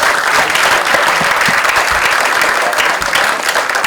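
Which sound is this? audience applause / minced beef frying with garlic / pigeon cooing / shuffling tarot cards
audience applause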